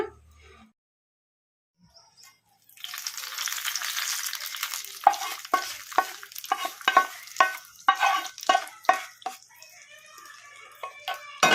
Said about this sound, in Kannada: ಈಗ ಸ್ಟವ್ ಆಫ್ ಮಾಡಿಕೊಂಡು ಮೊಸರಿಗೆ ಒಗ್ಗರಣೆ ಹಾಕ್ಕೊಂಬಿಡೋಣ